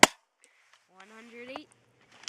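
A Colt MK spring airsoft pistol fires a 0.20 g BB through a chronograph with one sharp, close snap at the start, then a quiet whirring tone and another faint snap at the end.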